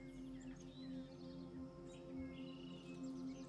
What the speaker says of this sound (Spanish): los pájaros cantan